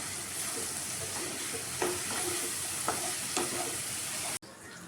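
Vegetables and potato fry in oil for khichuri, a steady close sizzle with a few soft stirring scrapes, alone without talk.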